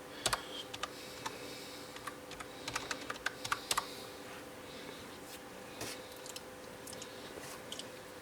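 Keys tapped on a computer keyboard at a Raspberry Pi login prompt, a quick irregular run of close, light clicks that comes in bursts and pauses over a steady low hum.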